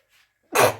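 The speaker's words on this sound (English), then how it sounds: "Oh, sorry, I needed to sneeze." One sudden sneeze bursts out up close, sharp and loud, following a brief faint sound and silence.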